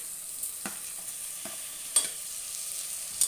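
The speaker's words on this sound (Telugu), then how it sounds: "ఇలా వేగనివ్వాలండి పసుపుని పప్పుని ఇట్లా వేగిన తర్వాత మనం ముందుగా కట్ చేసి పెట్టుకున్న టమాటాను వేసేసుకొని" Moong dal and turmeric fry in a pan with a soft, steady sizzle while a spoon stirs in chopped tomatoes, giving a few clear scrapes and clinks against the cooking surface.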